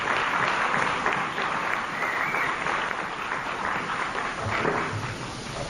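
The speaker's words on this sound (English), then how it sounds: "Please give them a round of applause." Steady applause from the audience at a crime forum on Grand Bahama, a continuous wash of many hands clapping from a large crowd, fairly even in loudness from start to end.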